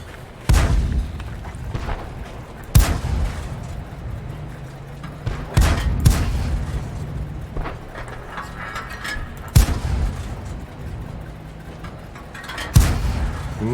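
SU-76M self-propelled gun firing in a tank video game, sharp booming shots spaced a few seconds apart, loud and close, with mechanical reloading clanks and a low engine rumble between them.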